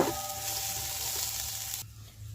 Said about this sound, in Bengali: পেঁয়াজ মরিচ হালকা ভেজে নিচ্ছি।